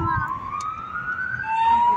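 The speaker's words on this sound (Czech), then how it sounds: "Tu někde jde sanitka, kolona a myslím si, že jede" An ambulance siren wails with a slow rising tone over the low rumble of a traffic jam, moderately loud and steady, with a voice talking briefly near the start.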